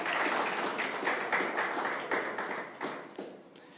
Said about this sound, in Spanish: Un aplauso, por favor, para Marito y su esposa.